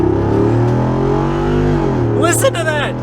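A 2022 Jeep Wrangler Rubicon 392 Xtreme Recon with its Hemi V8 accelerates hard, giving a loud, deep engine roar heard from inside that rises steadily in pitch, and a voice exclaims over it near the end.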